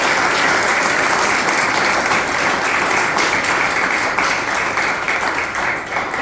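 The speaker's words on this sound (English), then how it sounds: "A big warm round of applause." A seated audience at a talk forum in Singapore applauds in a dense, steady wash of clapping that holds at full loudness and only begins to thin out at the very end.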